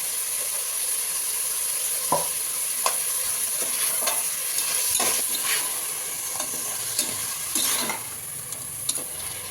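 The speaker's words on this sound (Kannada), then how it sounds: "ಸ್ವಲ್ಪ ಉಪ್ಪು, ಹಾಕಿ ಮಟನ್ ಸ್ವಲ್ಪ ಎಣ್ಣೆ ಹುರಿಬೇಕು" Minced mutton frying in oil with salt for keema sambar, a steady close sizzle with intermittent stirring scrapes and clicks throughout, no talking.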